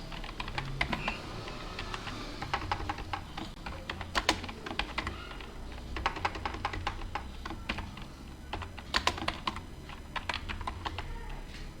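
Rapid typing on a computer keyboard during spreadsheet work, a close, steady stream of light key clicks with brief pauses and a few firmer taps, no voices over it.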